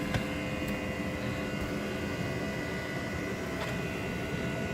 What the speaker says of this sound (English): The noise you can hear is the diesel heater.